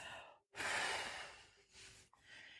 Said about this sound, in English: And just breathing all the way out.